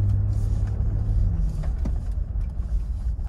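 A 2001 Toyota 4Runner SR5 engine rumbles steadily as the SUV pulls away, a close, continuous low drone that swells slightly without any talk.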